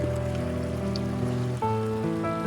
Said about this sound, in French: je suis au bord du ruisseau